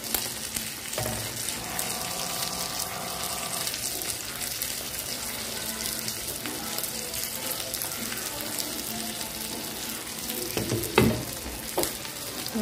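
Fish frying in hot oil in a pan, a dense, continuous sizzle and crackle heard close up, with a few clinks and stirring movements and a brief louder pop near the end.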